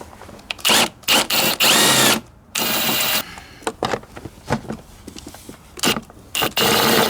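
A power tool loosens the 10 mm air box bolts on a Lexus RX 330 in several close, loud bursts of varying length, separated by short pauses and clanks.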